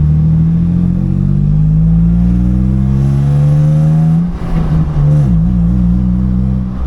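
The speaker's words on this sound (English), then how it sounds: "I can't believe how loud this car is." A Nissan Xterra engine runs loud and close, its steady drone climbing slowly in pitch, then wavering and settling, with no talk over it.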